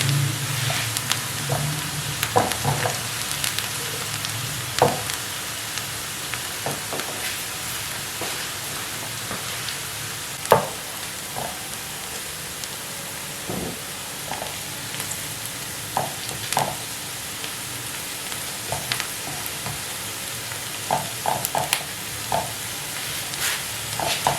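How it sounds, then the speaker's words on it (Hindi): Onions fry in a pan for an egg omelette, a steady close sizzle broken by repeated scraping stirs and taps of a spoon, with no voices. "हमारी प्याज जो है वो ब्राउन होना स्टार्ट हो गई है, तो अब हम आंच को हल्का कर देंगे।"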